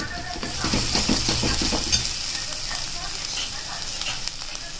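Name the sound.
stirring spices frying in pan for butter matar paneer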